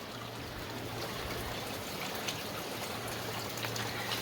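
Hot spring water pours into a small indoor tub, a quiet, steady splashing trickle that runs continuously with no voices.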